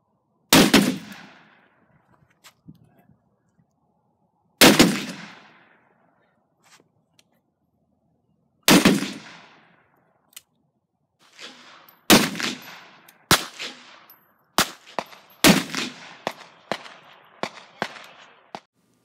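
Loud .44 Magnum revolver shots from a Smith & Wesson Model 29 with a 6.5-inch barrel, fired into bare gel: three widely spaced sharp reports, then a quicker string of closer bangs with sharp echoing tails, no voices.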